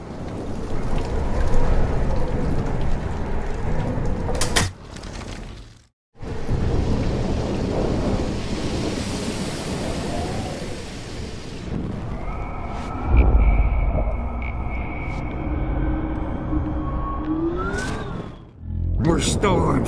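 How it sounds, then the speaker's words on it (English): Thunder rumbles and rain pours during a storm in the video game Life Is Strange, loud and sustained with a few brief drops out, while people talk over it. "More storms."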